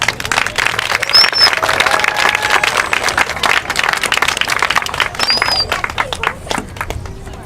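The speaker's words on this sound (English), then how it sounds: "So let's go ahead and give Darcy a round of applause" A crowd applauds and claps at a medical freedom rally outside the Oregon State Capitol, steady dense clapping throughout with a few cheers and some voices mixed in.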